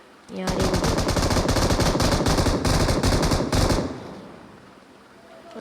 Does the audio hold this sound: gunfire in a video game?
yes